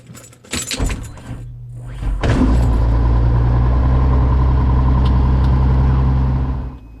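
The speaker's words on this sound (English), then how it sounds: "So this is a cold start." A light aircraft engine cold-starts on the ramp at Frederick, Maryland: brief cranking and sputters, then the engine catches into a loud, steady, close-up roar that holds before cutting away.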